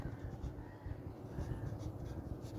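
Pen scratching across paper while working a maths problem, a steady close scraping texture with small strokes running throughout, faint and alone.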